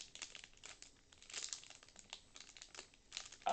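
Plastic foil wrapper of a One Piece card game booster pack being worked open, with steady crinkling and crackling bursts throughout and a sharper rip near the end, close and fairly quiet, no talk.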